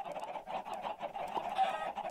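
Chickens cluck in the video game Minecraft, giving a steady run of soft, repeated clucks and murmurs at moderate level, with no talking.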